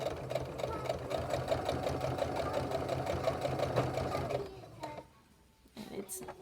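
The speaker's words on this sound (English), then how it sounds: "And then we're just gonna try to sew straight as possible." A sewing machine stitches a fabric face mask with a rapid, even mechanical whirr for about four seconds, then stops, leaving quieter handling noises.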